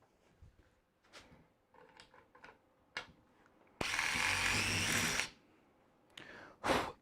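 A screw being driven into wood while a drawer is fitted to an existing cabinet, one steady mechanical whirr lasting about a second between scattered clicks and handling knocks.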